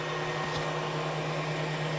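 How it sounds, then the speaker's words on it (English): An air conditioning unit cooling a cabin while running on solar power gives a steady, loud mechanical hum with an even whirring drone and no pauses, and nobody speaks. "I'm cooling my cabin with this AC unit right here that is currently running off of my solar."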